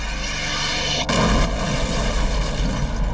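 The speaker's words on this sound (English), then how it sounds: "A huge explosion rocks the FBI's office." A sudden deep boom erupts after a low rumbling drone as an explosion rocks an FBI office, followed by a sustained roaring rumble that stays loud to the end.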